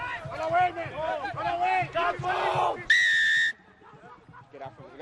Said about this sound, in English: Sharp blow on the whistle.